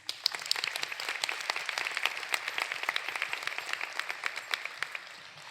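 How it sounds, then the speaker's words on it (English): Audience at the 2024 Drexel Pennoni ceremony applauding, a dense spread of many clapping hands with sharper individual claps standing out, steady and moderately distant, without talk. "give them a round of applause for their support and guidance"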